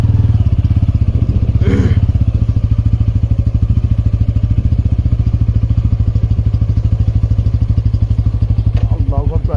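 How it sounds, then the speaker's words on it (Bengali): A motorcycle engine runs close and loud with a steady rhythmic putter as the bike is ridden, and a brief burst of other noise cuts in near the start. "আমার বাইক যে ড্রাইভ করতেছে সালমান ভাই"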